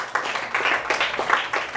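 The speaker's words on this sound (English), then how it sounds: "Let's clap our hands for our debaters." An audience claps for the debaters at a school debate, a dense, fairly close burst of many hands that swells and stays steady for a moment.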